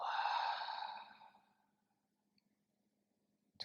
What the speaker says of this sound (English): Take a big inhale through your nose. Long exhale.